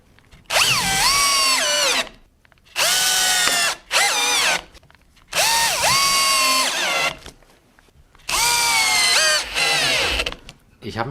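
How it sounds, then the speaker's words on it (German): A power drill drives screws through two hinges into wood, in several loud bursts of whining motor that rise and fall in pitch, separated by short pauses. "das hier schrauben wir jetzt einfach hier hinten mit 2 Scharnieren fest"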